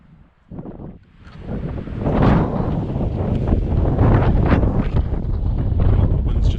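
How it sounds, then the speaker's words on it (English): Strong wind buffets the microphone on an exposed hillside during a red stag hunt, rising from faint gusts to a loud, continuous roar that lasts to the end. "the wind's just too bloody strong"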